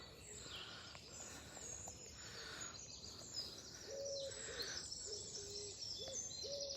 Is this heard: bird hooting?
yes